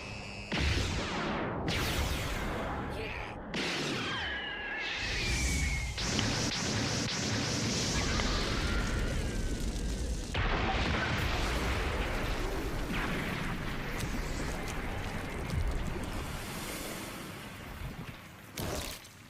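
A block-break move in GPO, a video game, sets off a fire burst: dense, continuous crackling and whooshing blasts with sharp pops, loud and sustained for nearly twenty seconds.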